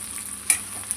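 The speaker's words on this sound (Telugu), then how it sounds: "పల్లీలు వేసుకొని పల్లీలు కూడా ఫ్రై చేసుకోవాలి" Peanuts frying with okra in a pan, a steady close hiss of oil with a couple of sharp pops in about a second.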